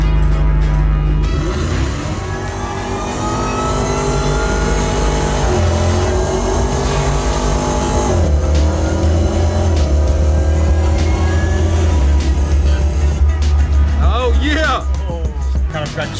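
A Dodge race car engine in a driving simulator game roars loudly and steadily, its pitch climbing and dropping through rev changes with no shifting.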